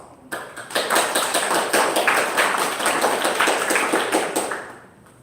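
An audience at a senior high school speech contest, part of a university engineering expo in Riau, breaks into sustained applause: dense, continuous clapping that starts abruptly, holds loud and close for several seconds, then tapers off.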